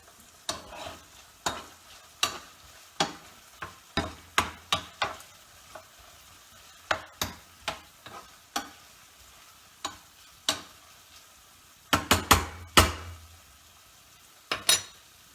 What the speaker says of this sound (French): Ah oui, je retourne de nouveau mes lardons